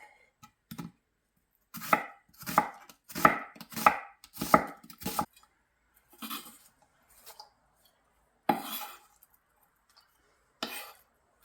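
Red onion being thinly sliced on a board for homemade sauerkraut, a run of crisp knife chops in quick bursts, then a few spaced single cuts, close and alone with no talk.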